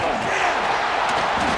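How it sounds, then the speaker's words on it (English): Stadium crowd roaring at a college football game between Ohio State and Notre Dame, a loud, dense, sustained wall of cheering and yelling from a huge audience, close and unbroken. "this crowd is fired up. Listen to this noise here."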